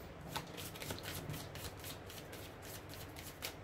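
Petit Lenormand cards shuffled by hand, a quiet, continuous soft riffle with faint rhythmic flicks through the whole stretch, no voice over it.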